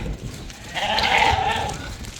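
A single yearling ewe bleats once, a wavering nasal cry lasting about a second, close and clear over faint background noise.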